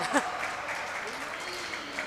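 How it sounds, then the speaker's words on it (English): Audience clapping at an indoor pickleball match, a steady wash of applause from the crowd filling the space, with a voice briefly rising over it. "Everybody in the audience applauding this last exchange."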